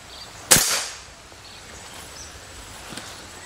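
A Marauder PCP air rifle fires once at a paper target, a sharp close crack with a brief airy decay, followed by quiet outdoor ambience and a faint distant tap.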